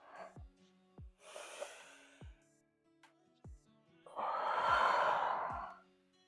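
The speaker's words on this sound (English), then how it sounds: "Breathing." Heavy breathing during a power yoga flexibility workout: a sequence of sharp exhales and sighs followed by a long, loud breathy outbreath, close to the microphone with no speech.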